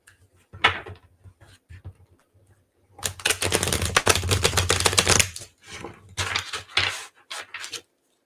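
A deck of tarot cards being shuffled at close range, crisp riffling bursts and soft slaps in several separate rounds with short pauses between.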